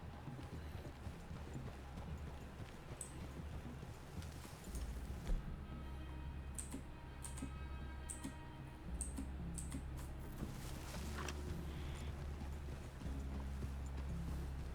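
Horses walking slowly through a forest clearing in the Western game Red Dead Redemption 2, soft hoof clip-clops under low ambient rumble and faint chimes.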